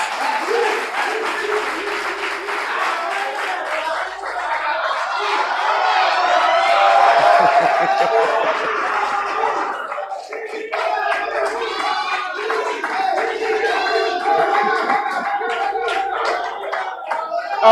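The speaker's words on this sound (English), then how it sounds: "Round of applause." A live audience at a university business competition final gives a round of applause, a dense, loud wash of clapping mixed with cheering voices and background music that continues steadily.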